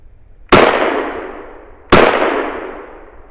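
Two loud, sharp pistol shots from a Walther WMP strike a steel plate, each a crisp crack with a ringing metallic tail, spaced about a second and a half apart, with no other sound.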